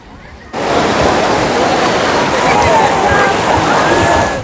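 Sea waves wash on a beach where crowds are bathing, a loud broad roar of surf that swells in after a brief quieter start and holds steadily.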